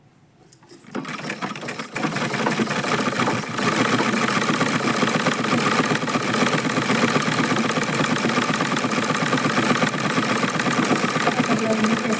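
A sewing machine stitches a blouse. It starts up after a brief quiet moment, then runs continuously with a loud, fast, even mechanical whirr and clatter.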